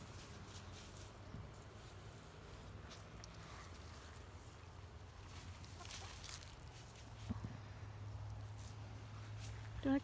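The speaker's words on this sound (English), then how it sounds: "Adventures with chickens." Wyandotte chickens cluck softly while foraging on grass outdoors, faint calls heard under steady low background noise, with a brief louder sound near the end.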